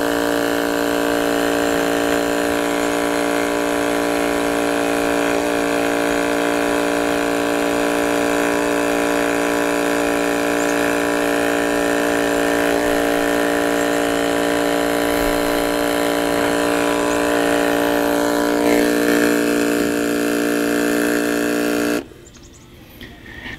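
A FlowJoe Gas Guzzler 12-volt fuel transfer pump runs with a loud, steady electric motor hum and whine, close and constant for about twenty seconds before cutting off abruptly near the end.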